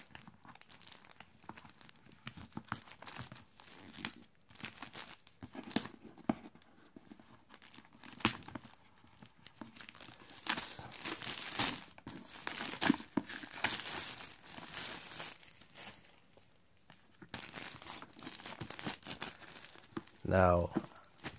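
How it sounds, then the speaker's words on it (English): Plastic wrap crinkling and tearing as it comes off a Yi 4K+ action camera, a near, continuous rustle with bursts of crumpling, then a brief louder rip at the end. "time to take the plastic off of this"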